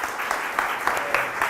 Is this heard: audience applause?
yes